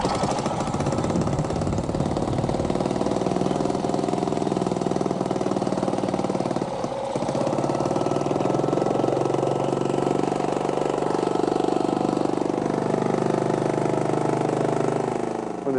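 Engine idling steadily throughout, a loud continuous drone with a brief dip midway and no talk over it.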